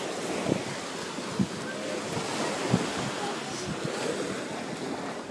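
Strong surf at a beach rolls in as a continuous broad wash of breaking ocean waves, with wind noise and a few soft knocks, steady and fairly close.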